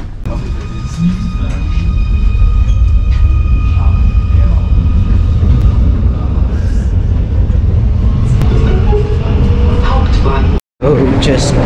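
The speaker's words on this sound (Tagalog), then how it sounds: "So sakay tayo ng tren going to hostel again." Riding a train back to a hostel in Munich, Germany: a steady, loud rolling rumble and hum of the moving carriage runs throughout, with voices talking over it and a brief dropout near the end.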